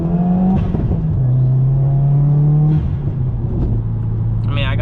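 A Subaru WRX with Stage 2 tuning pulls hard through the gears, its engine note climbing in rising sweeps with brief drops at the shifts, heard loud from inside the car.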